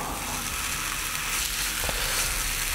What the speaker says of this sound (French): ma poêle est à nouveau chaude, je dépose les merguez